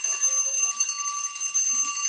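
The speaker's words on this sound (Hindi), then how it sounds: "बस घंटी बज गई।" An electronic bell or alarm rings steadily with bright sustained tones, loud and continuous for a couple of seconds, alone without speech, in a maths class session.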